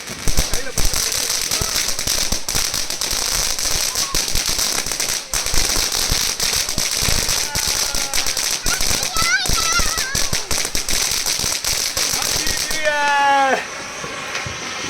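A long, dense string of firecrackers pops and crackles rapidly and loudly at a Chinese New Year celebration in China, with voices calling out underneath as the bursts keep going.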